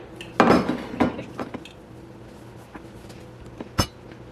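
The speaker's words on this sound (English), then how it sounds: "now to get my greased baking dish" A greased baking dish is handled on a kitchen counter, with a couple of loud clattering knocks early on, lighter clinks of utensils after, and one sharp clack near the end.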